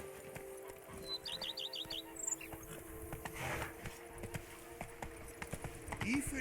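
Rapid hoofbeats of a galloping horse in the video game The Witcher 3: Wild Hunt run under game music and effects, with a brief rising chirp partway through.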